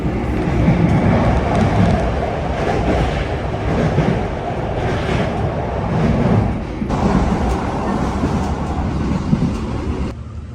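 Onboard the Doho commuter train KA 403 in Indonesia, bound for Surabaya Kota via Kertosono: a steady, loud rumble of wheels on rails with a continuous roar and small shifts in texture, with no voices.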